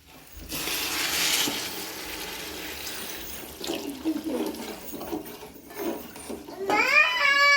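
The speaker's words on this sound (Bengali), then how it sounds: "আর এই বাটিতে জল আছে, সে জলটা আমি ঢেলে দিচ্ছি।" Water from a bowl is poured into a pot of washed rice for a veg dum biryani, making a close, steady splashing gush with some gurgles. A high ringing tone comes in at the end.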